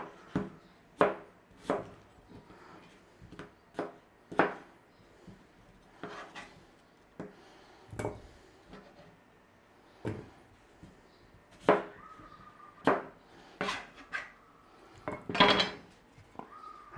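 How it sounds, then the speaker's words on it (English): Potatoes being cut into big cubes with a knife on a board, a slow irregular series of sharp chops and thuds with quiet pauses between, plus occasional clinks of kitchenware, close and clear with no talking. "All we need to do is cube up these potatoes, big cubes."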